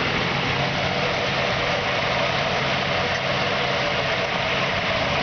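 A 1949 Ford F1 pickup's original engine idles steadily, with new plug wires, spark plugs, cap and rotor, giving a continuous close, even rumble with no talk over it.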